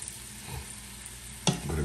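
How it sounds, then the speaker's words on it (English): Heavy cream being stirred into chicken in a hot pan, a low sizzle with a sharp scraping stir near the end, close and brief. "I'm gonna mix this, guys."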